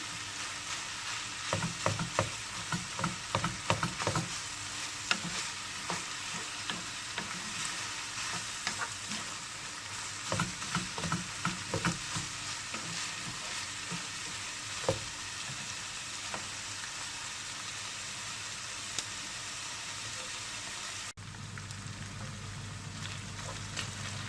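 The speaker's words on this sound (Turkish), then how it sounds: "Soğanımızı, kıymamızı güzelce kavuruyoruz." Onions and minced meat sautéing in a pan for Kayseri yağlaması filling, a dense continuous sizzle with scraping and stirring bursts early on, close-up and steady throughout with no voices.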